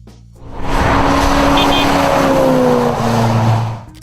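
A 1969 Plymouth Road Runner with the 440 Six Pack V8 roars up loudly and holds a strong, rising engine note for about three seconds before it fades. Speech runs underneath.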